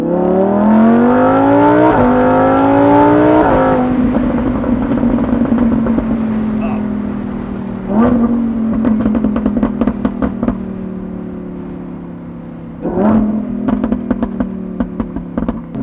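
A naturally aspirated Lamborghini Huracan EVO with a RYFT exhaust revs hard and climbs through the gears, with sharp shift breaks and crackling pops between loud, steady acceleration runs.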